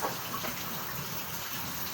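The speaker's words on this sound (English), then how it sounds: "Just get the juice out of here and then pour them into this thing." Juice poured off from canned peaches while the fruit is drained, a soft continuous gush of liquid that is fairly faint and steady throughout, with no speech.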